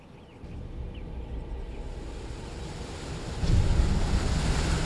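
Strong wind roars continuously across the microphone, with a rushing, surf-like quality that swells louder near the end.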